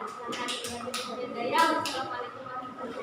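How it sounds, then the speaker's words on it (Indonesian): Classroom applause for a student presentation group in an Indonesian school science lesson, a scatter of hand claps rising and fading over about three seconds under a teacher's voice and children's chatter. "Beri tepuk tangan untuk kelompok 3"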